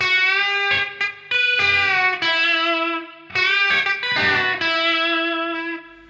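Distorted electric guitar plays a lead phrase from a song's solo, sustained bent notes and quick picked runs, loud and alone, with brief gaps between figures.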